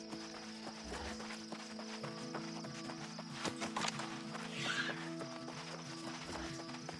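Horse hooves clip-clopping in the video game New World, a steady walking rhythm at moderate distance over a bed of game ambience and faint music, with no clear neigh.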